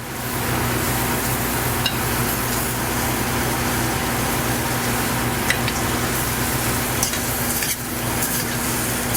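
Ackee being stirred into a pan with spices for ackee and smoked salmon, giving a steady low sizzle and stirring scrape throughout, with a few faint clicks of the utensil and no talking.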